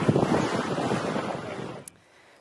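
Wind roars steadily across the microphone aboard a sailing boat during the Gotland Runt race, loud and constant before cutting off abruptly near the end.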